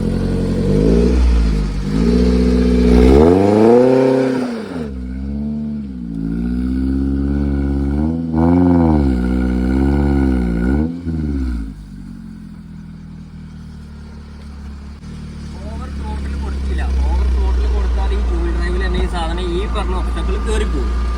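Maruti Gypsy in two-wheel drive revving hard as it climbs an obstacle, engine pitch swinging up and down in repeated bursts, loud and close, then settling to a lower idle while someone talks.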